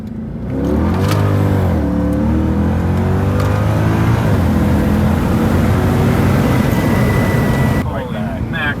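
Tuned Mercedes C63 AMG V8 with an aftermarket tune revs hard and rises, then drops through downshifts with a rough, crackling roar, loud and close for several seconds before cutting away.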